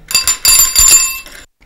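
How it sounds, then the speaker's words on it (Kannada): A bicycle bell rings loudly and close up in a short series of quick metallic trills, bright and ringing, then stops and leaves near silence. "ಉದಾಹರಣೆಗೆ ಈ ಬೆಲ್ ನೋಡಿ."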